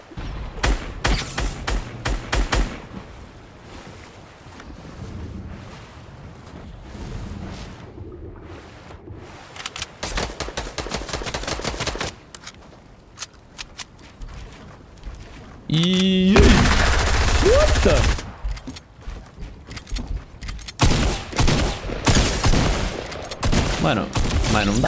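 Gunfire rattles through a Fortnite Arena match: repeated rapid volleys and single shots, some loud and close, with bursts of other game effects in between.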